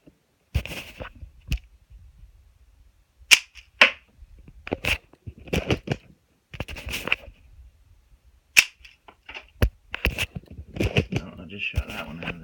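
A toy assault rifle fires sharp, snappy pops in scattered single shots and short clusters, close and crisp against near silence, with a voice speaking briefly between some shots.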